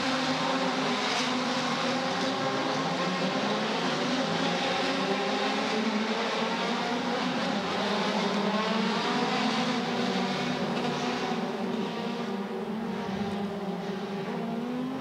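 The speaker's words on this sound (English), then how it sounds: "well, Jonathan, a blast of sound there as they go away." Race cars pull away at the Hampton Downs circuit, a loud, sustained roar of several engines blending into one dense wall of sound that holds steady throughout, with no voices over it.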